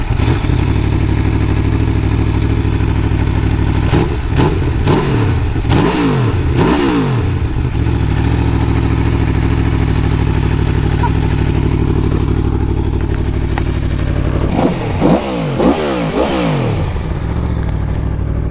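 An Aprilia Tuono V4 motorcycle accelerates hard on an open road, the loud close engine climbing through several quick gear changes in two bursts of revving, with a steady drone and wind between them.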